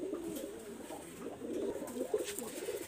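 A purebred tournament pigeon from an imported breed line coos softly and repeatedly in a low, rolling warble, faint and steady with no talking.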